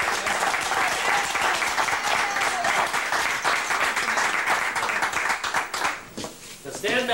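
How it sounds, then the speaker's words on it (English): A crowd claps steadily at a new store opening, even applause continuing for several seconds before tapering off, with voices talking near the end. "Let's give them a big round of applause."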